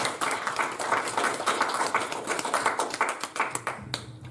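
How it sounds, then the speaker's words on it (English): Audience applause for a speaker named Carrie, a dense, steady patter of many hands clapping at close range for about four seconds, thinning out near the end. "Round of applause for Carrie"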